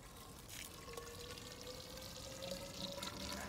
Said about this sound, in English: we're going to give them the water.